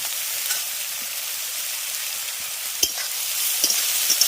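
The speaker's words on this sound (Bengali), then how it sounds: "গুগলিগুলো ভাজার সময় এর মধ্যে দিয়ে দিচ্ছি লবণ আর হলুদের গুঁড়ো" Apple snails frying in a pan with salt and turmeric give a soft, steady sizzle, with a few sharper clicks of stirring near the end.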